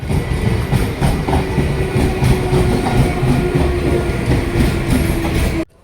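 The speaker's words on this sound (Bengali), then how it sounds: "আমাদের যাওয়ার জন্য ট্রেন চলে এসছে" A suburban train rolls into a station platform on the Sealdah line, a loud close rumble with rhythmic wheel clatter and a faint high squeal that cuts off abruptly at the end.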